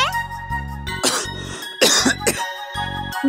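A man coughs in several harsh bursts with brief pauses between, loud and close, over faint background music.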